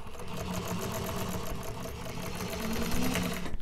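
Sewing machine stitching a quarter-inch seam over piping along the edge of a fabric bag, a steady close whirring hum with a rapid mechanical rattle running unbroken throughout.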